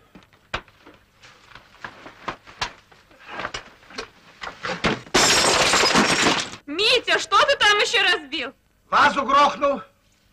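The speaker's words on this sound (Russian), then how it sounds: "Вазу грохнул." A vase smashes and shatters indoors in a 1950s Soviet comedy film, a loud burst of breaking glass-like crashing, preceded by small clattering knocks and followed by people talking.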